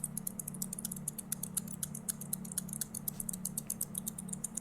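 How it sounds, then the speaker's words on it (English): An old electronic keyboard handed down from a grandfather makes a rapid, rhythmic ticking and clicking noise over a steady low electrical hum, continuous and fairly close. "I decided to bring out a keyboard that my grandpa gave me and made this noise"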